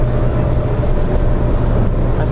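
Suzuki Karimun Kotak driving fast on a toll road at about 100 km/h, giving a steady, loud interior road and engine roar with wind noise that holds level throughout and has no talk over it.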